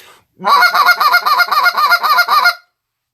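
Geese honk in a rapid, even series of about a dozen loud, close calls, one after another, then stop abruptly into silence.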